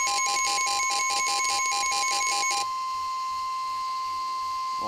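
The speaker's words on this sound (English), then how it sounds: "Well, somebody's weather radio went off." NOAA weather radio sounding an EAS alert: a loud rapid pulsing two-tone beep repeats for about two and a half seconds, then gives way to a steady single attention tone that holds to the end.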